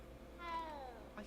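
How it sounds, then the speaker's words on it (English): A cat in Hogwarts Legacy gives a single drawn-out meow, faint and brief over a low steady background hum. "You can pet the cat."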